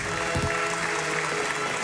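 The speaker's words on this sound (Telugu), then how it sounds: "చప్పట్లు చప్పట్లు." Clapping and cheering for a contest winner in a Telugu children's cartoon, a steady wash of applause lasting the whole stretch with a few sharper claps standing out, fairly loud and without talk.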